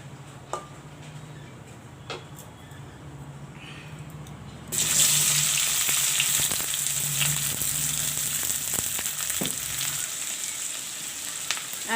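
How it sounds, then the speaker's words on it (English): Asafoetida sizzling in hot oil for a spicy mutton curry, at first a faint hiss with a low hum, then a sudden loud, steady frying crackle that holds to the end. "When the hing cooks up in the oil, then I will put the other half of onions and fry the onions."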